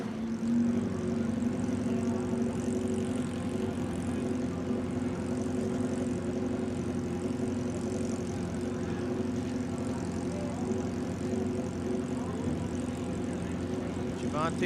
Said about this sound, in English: Javante Jones on his Kawasaki ZX-9.